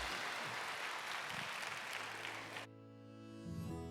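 A church congregation applauding during a Sunday worship service, a steady dense clapping that stops abruptly, leaving sustained organ or keyboard tones.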